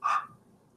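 A single short dog bark close to the microphone in a quiet room, followed by faint breathing and low background hum.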